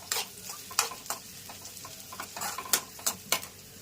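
Onions frying until golden in a pan, with a soft background sizzle broken by sharp, irregular spatula scrapes and taps against the pan.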